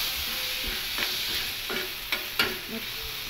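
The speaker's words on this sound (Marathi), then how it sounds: "आपला आधी मिरची आणि लसूण परतलेलंच आहे, थोडासा परतून घ्यायचा।" Green chillies and garlic sautéing in a pan for a dried bombil chutney, with a continuous hiss of frying and a few sharp spatula scrapes and knocks against the pan, close and alone.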